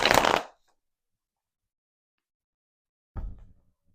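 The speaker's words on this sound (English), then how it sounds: "Okay, so let's get a few shuffles." Tarot cards are riffled in a short, close burst at the start, then silence, and a second brief shuffle comes near the end.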